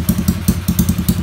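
Motorcycle engine idling through an SFX aftermarket exhaust bought online, a loud, close, rhythmic thumping burble with regular pulses about every tenth of a second, heard alone.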